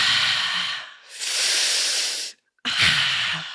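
Heavy, breathy exhales and inhales come in long, airy waves, loud and close, with a brief silence between the last two breaths.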